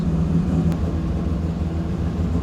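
A 1000+ hp Toyota Supra engine idles steadily and loudly throughout, a continuous low rumble with a faint whir above it and no talking.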